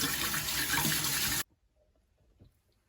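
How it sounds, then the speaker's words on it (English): Rice being rinsed under a running kitchen tap, a loud rush of water for about a second and a half that stops abruptly, followed by faint small handling noises. "Always rinse your rice."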